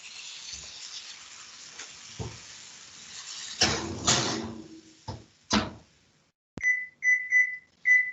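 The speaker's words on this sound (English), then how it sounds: "I set that timer for 25 minutes" A kitchen timer set for 25 minutes while baking gives a few button clicks and knocks, then a short run of sharp, close electronic beeps, about four in a quick rhythm.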